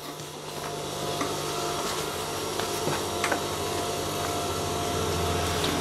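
Machine stitching along the side seam of elastic-waist boxer shorts: a constant close mechanical hum with faint repeated ticks and clicks throughout, no voices.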